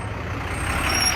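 A flatbed tow truck idles nearby, a steady low diesel rumble with a faint high whine running continuously and growing slightly louder.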